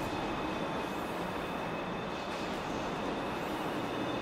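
Steady rumble of a moving train in the video game Destiny 2, a continuous mid-loud rolling roar with a faint high whine running through it, no voices over it.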